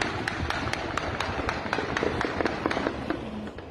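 Rapid, sharp cracks of gunfire pop repeatedly during a police and trafficker exchange of shots on a Rio de Janeiro road, sounding distant over a dense roar of background noise.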